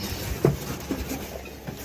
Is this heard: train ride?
yes